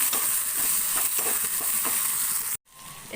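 Onion, green chili and tomato fry in a pan with a steady, loud hiss and crackle, cutting off abruptly near the end before resuming more softly.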